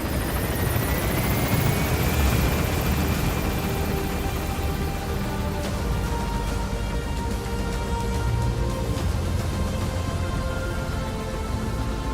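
A helicopter lifts off in Metal Gear Solid V, its rotor thumping and turbine whine rising steadily, loud and continuous, with no one talking.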